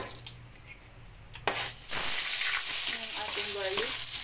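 Garlic hits a hot pan: a quiet stretch gives way to a sudden loud burst of sizzling that carries on steadily, with some stirring scrapes.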